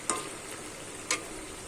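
Ridge gourd and boiled potato stirred in a frying pan, a steady soft sizzle with two brief clacks of the spatula against the pan, close and without talk.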